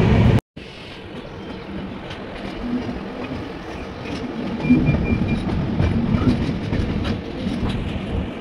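A train rolls into Puri station, its steady rumble and clickety-clack of wheels on rails building in loudness as it approaches, heard close from on board without talk.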